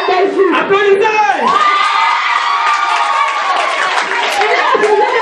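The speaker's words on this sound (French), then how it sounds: "applaudissez!" A large crowd of children shouts and cheers loudly at close range, a continuous excited roar with high voices and whoops running through the whole stretch.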